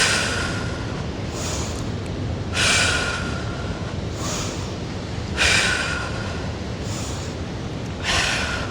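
Steady, loud breathing through a Pilates glutes and abs workout, with long airy exhales and a few sharper breaths swelling roughly every two to three seconds, heard close and without talk.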